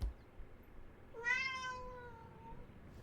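A house cat gives one drawn-out, rising then falling meow, clear and fairly close in a quiet indoor room, with a soft thump just before it and no talking.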